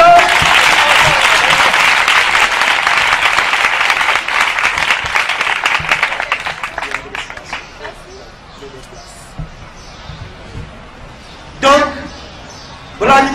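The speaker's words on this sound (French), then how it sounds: "on peut l'applaudir." An audience at a nomination ceremony breaks into loud, dense applause that holds for several seconds, then thins out and fades, leaving a quiet room with a couple of brief bursts of talk near the end.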